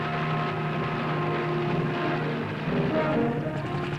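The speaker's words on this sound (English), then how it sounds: "they bolted at the sound of our helicopter" Helicopter flying low over a running elephant herd above treetops, a continuous throbbing rotor and engine drone heard steadily at moderate distance with no other sounds standing out.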